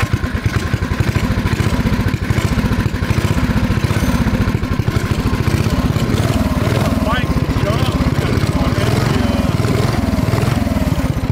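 A 90-degree Sidewinder mini bike engine runs steadily and loud, a rough, fast-pulsing single-cylinder chatter that holds nearly constant throughout, with a faint voice now and then beneath it.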